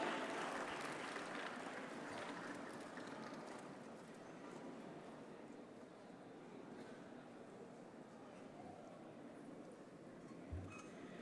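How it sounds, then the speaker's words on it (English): Audience at a startup festival in India applauding Sadhguru and the evening's host, sustained steady clapping from a large crowd lasting several seconds, fairly distant and even. "A big round of applause"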